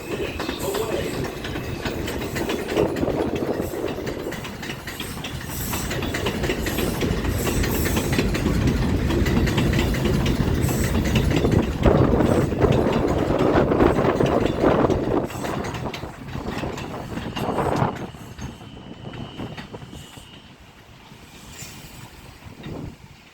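An R142A subway train on the 4 line rumbles through Mosholu Parkway station on the Jerome Avenue line after a blizzard, a loud close roar with wheel clatter that swells, holds, then fades away.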